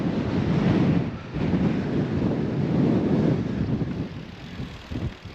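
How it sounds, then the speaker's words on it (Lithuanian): Strong wind buffets the microphone in a continuous low roar, heavy and gusty throughout with no voices, near Kiel. "Vėjas tai žiaurus, daužo."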